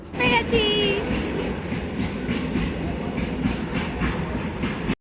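A train rumbles along the tracks with a steady rhythmic clatter, close and fairly loud, a brief whistle-like tone near the start.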